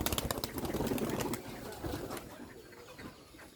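Bombay pigeons coo close by in soft, repeated pulsing calls, louder at first and then fading a little, with faint background noise.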